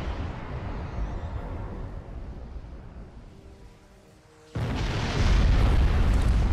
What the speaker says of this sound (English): That was quite an explosion, probably from the Thalaron weapons carried aboard the ship